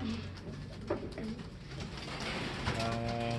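Pigeons coo in low, repeated throaty calls while waiting to be fed, several birds close by, with soft voices talking faintly underneath.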